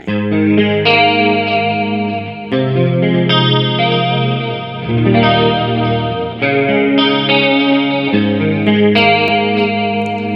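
Electric guitar through a Mooer Prime P2 multi-effects processor, chords ringing out loud and sustained, thick with chorus and distortion effects, changing every couple of seconds with no voices.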